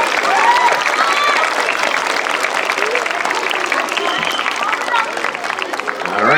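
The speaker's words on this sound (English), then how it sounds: "One more round of applause for our 4th through 6th grade winners" A school audience applauds 4th to 6th grade award winners, a dense, loud, continuous wash of clapping from many hands that carries on steadily without breaks.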